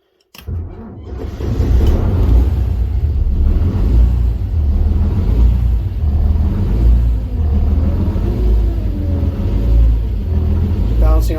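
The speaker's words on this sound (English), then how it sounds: "engage the start battery, give it a little throttle" A boat's inboard engine on the Euphemia II starts with a sharp burst after near silence, then settles into a steady, loud low idle of about 465 RPM while tied at a mooring, with speech over it.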